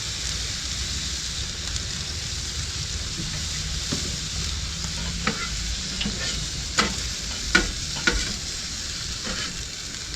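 Salmon and asparagus seasoned with salt, pepper and garlic sizzle on a griddle, a constant close frying hiss broken by several sharp scraping and tapping sounds from stirring or turning, no speech.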